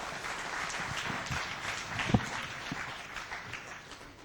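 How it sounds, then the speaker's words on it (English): Audience at a large professional conference hall applauding, a dense steady wash of many hands clapping at a moderate distance, with one sharper nearby clap partway through. "Please give a big round of applause for Mr. Masood Ali Naqvi."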